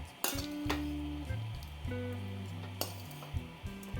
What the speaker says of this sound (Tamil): இப்போ நான் வந்து ரைஸ் போட்டதுக்கு அப்புறமா நான் இதை வந்து நல்லா மிக்ஸ் பண்ணி விட்டுடுறேன்